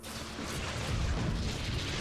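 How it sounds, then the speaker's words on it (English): Four photon cannons firing on a Protoss warp gate in StarCraft II, heard as a steady, dense wash of rumbling booms and bursts that runs continuously through the whole stretch. "It looks like that poor warp gate is finally under attack by 4 cannons."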